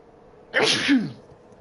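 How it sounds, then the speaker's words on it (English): A single sharp sneeze bursts out close by, brief and loud, with quiet before and after. "Excuse me, I'm going to sneeze."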